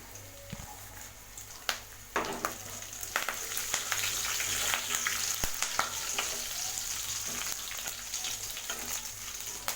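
Curry leaves and garlic crackle and fry in hot oil for tomato rice, a steady close sizzle broken by sharp pops and brief scraping stirs.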